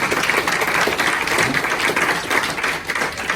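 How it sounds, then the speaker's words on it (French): A crowd at a hotel event claps steadily and densely, sustained rapid applause filling the room at an even, fairly loud level with no speech over it. "applaudir l'association Source de Vie et l'hôtel qui nous reçoit bien fort"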